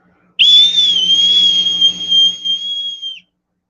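One steady, high-pitched whistled note from a song, clear and loud, held for about three seconds with a slight wobble, then it stops sharply into silence.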